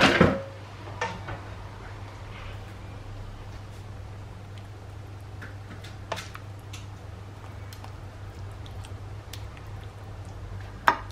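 Minced meat spooned onto a vegetable layer for a layered bake, heard as faint, sparse clicks and soft taps of a spoon against the dish over a low steady hum.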